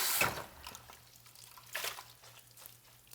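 Water rinses a hair topper or wig in short splashing bursts, separated by quieter trickling and dripping, close and fairly soft.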